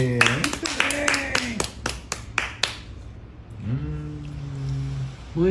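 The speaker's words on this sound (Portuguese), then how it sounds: "Aplausos." A small group claps at a family gathering, a short burst of rapid applause that dies away, with voices talking over and after it.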